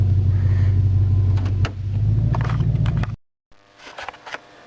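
A Ford Crown Victoria engine idles steadily after the car has sat in weeds, a loud low rumble for about three seconds that cuts off abruptly, followed by fainter mechanical clatter.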